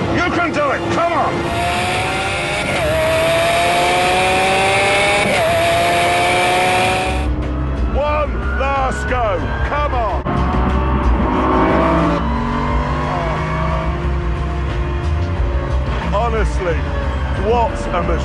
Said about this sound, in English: And the Lambo is unleashed.